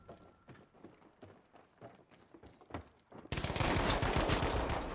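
Video game gunfire in a multiplayer shooter: scattered soft shots and footsteps at first, then a dense, loud burst of rapid automatic fire over the last couple of seconds.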